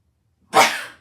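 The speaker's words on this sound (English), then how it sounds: "I gotta sneeze." A single sharp human sneeze bursts out loud and close after a silent half-second, then trails off.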